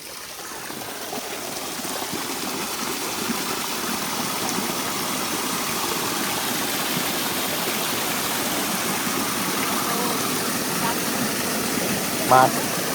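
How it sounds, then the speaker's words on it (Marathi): Steady rushing water, turned on at a rural agro-tourism centre, runs continuously at an even level, a broad hiss with a faint low rumble underneath. "हे पाणी तुम्ही आता चालू केलं दाखवण्यासाठी."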